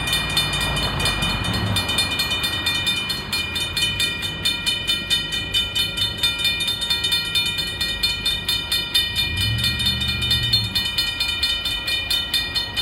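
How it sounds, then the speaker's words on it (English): A northbound Union Pacific mixed freight train rumbles past steadily at Oltorf Street in Austin, Texas, with a rhythmic clatter of wheels over rail joints and a high metallic ringing, a low horn swelling twice. "Here comes the train."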